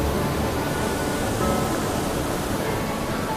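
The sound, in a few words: roaring waterfall in the city, Nepal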